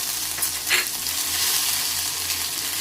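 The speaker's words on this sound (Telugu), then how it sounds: "అది కొంచెం పచ్చి వాసన పోయేదాకా వేయించుకోవాలి." Ginger paste frying in oil, a continuous close sizzle with one brief stir or scrape early on, steady and even throughout.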